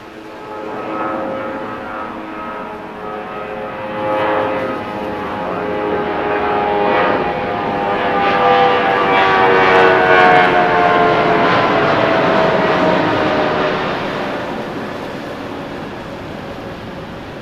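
A jet airliner takes off from runway 6 right at Los Angeles International Airport during a storm, its engine roar swelling steadily from a distance to a loud peak and then slowly fading, with no voices.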